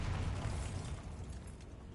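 A Bombarda explosion spell in Hogwarts Legacy goes off as a short, dense rumbling blast that fills the whole clip with muffled booming and crackle, close and loud with no voices.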